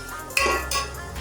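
Green beans are stirred with yogurt in a pot, a close metallic clink of a spoon against the pot followed by a short scraping stir, with no talking.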